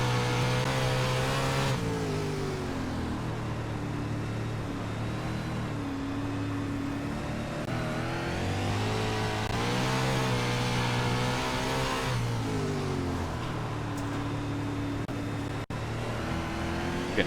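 410 sprint car engines roar in iRacing at Williams Grove Speedway, several cars revving and shifting pitch continuously at close range, loud and steady with no talk.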